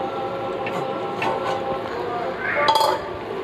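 A metal lid comes off a cooking pot of sinthamani chicken with a short clink near the end, over a low steady background and some talking.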